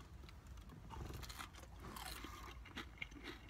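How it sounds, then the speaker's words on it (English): Someone bites into a crunchy KFC Nashville hot fried chicken tender, giving several close, crisp crunches and chewing sounds at fairly low volume. "I don't know if you can hear the crunch"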